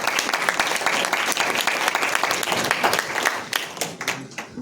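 Loud, sustained applause from an audience at a Hindi literature seminar session on disability discourse, dense clapping filling the whole stretch before thinning out toward the end, with no talk over it.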